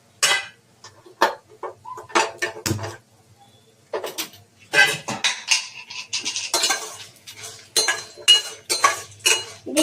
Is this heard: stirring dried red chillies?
yes